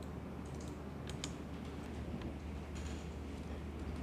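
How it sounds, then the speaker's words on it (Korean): Quiet keyboard typing, scattered soft key clicks over a steady low hum, with no voices. "다들 말 한마디 없고 키보드 소리만 들리네요"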